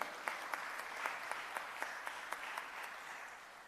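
Audience applause in a conference session hall on energy, a steady wash of many hands clapping, with a few louder, sharper claps standing out at regular intervals close to the microphone.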